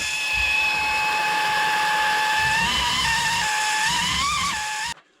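An air pen fossil preparation tool, ARO or SL2 type with a fine-ground tip, runs with a loud, steady high-pitched whine and buzz close by for about five seconds, wavering slightly before cutting off abruptly.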